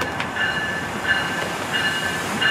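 A passing train rolls by close and loud, a continuous rumble of rail wheels with a faint squeal and a steady clatter throughout, with no voices.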